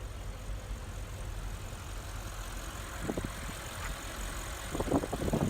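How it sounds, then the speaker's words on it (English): A luxury sedan engine idles with a steady low rumble, joined by a few short louder revs or mechanical bursts near the end; no one talks. "Very impressive engine."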